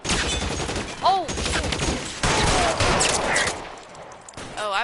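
Gunfire strikes the player in L.A. Noire, a chaotic spray of shots and impacts with scattered bursts, loud and close, mixed with game sounds and some talk.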